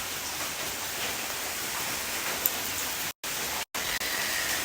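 Steady rain falls outside in an even, hissing wash of moderate loudness, broken by two brief dropouts near the end, with no voices.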